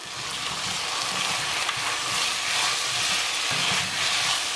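Potatoes sauté in a pan for a dry fish coconut milk curry, giving a continuous soft hiss and sizzle with faint irregular crackles throughout.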